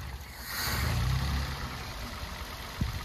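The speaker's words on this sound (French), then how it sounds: "quand j'enlève la connectique, le moteur il cale directement" A car engine runs rough at idle with its MAP air-pressure sensor unplugged from the intake, surging briefly before sagging and stumbling toward a stall, heard close and fairly quiet.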